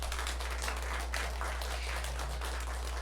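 A church congregation applauds during a Sunday morning worship service: a quiet, steady wash of clapping that holds evenly for about three seconds over a low hum.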